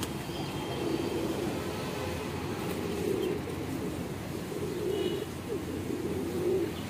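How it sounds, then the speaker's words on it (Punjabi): A flock of breeder pigeons coos in a steady, overlapping chorus with soft rhythmic swells, close and continuous throughout, with no speech. "ਕਬੂਤਰ ਪੂਰੇ ਹੋਏ ਸਾਰੇ"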